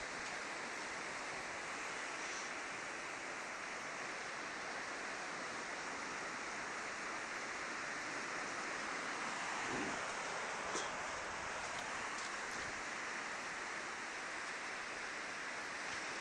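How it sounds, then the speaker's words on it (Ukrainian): Sea waves wash steadily onto the shore at high tide on Vega island, a continuous broad rushing surf with no pauses and no voices. "Мені в п'яти добігла хвиля."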